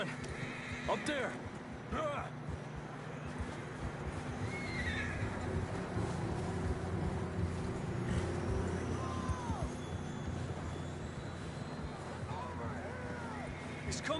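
Horses whinny and neigh several times in Red Dead Redemption 2 while hooves clop on the ground, all set against a constant outdoor rumble and game ambience, with voices talking now and then.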